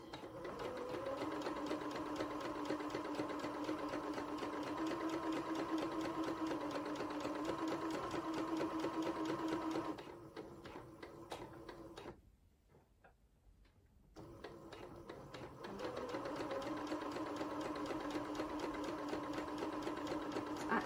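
A sewing machine runs a stay stitch around the neckline of red dress fabric, a fast, even close-up rattle that pauses briefly with a short gap of quiet before stitching resumes at the same steady pace.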